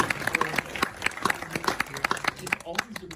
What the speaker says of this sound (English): Let's give a round of applause, please, for Matt Damon.